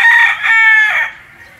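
A gamecock stag crows once, loud and close, in a single drawn-out call that fades into near-silence in a rural cording area in Iloilo, Philippines.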